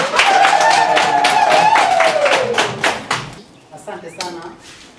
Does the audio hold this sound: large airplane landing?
no